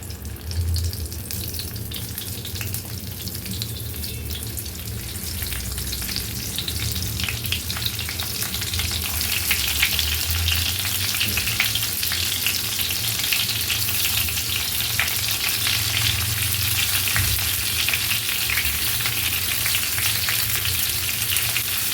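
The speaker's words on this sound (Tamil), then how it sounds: "இப்போது எண்ணெய் சூடாகிடுச்சு நம்ம ஒவ்வொரு கத்திரிக்காயை போட்டுறோம்" Stuffed eggplants fry in hot sesame oil with a steady, close crackling sizzle that grows slightly louder and denser as it goes, continuous with no voices.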